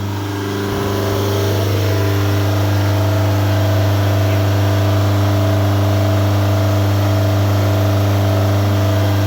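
A VW Touran with the EA288 diesel engine idles on its own with no driver, a loud, steady, close mechanical drone with constant low hum and pump-like whine, rising slightly in the first seconds and holding even throughout.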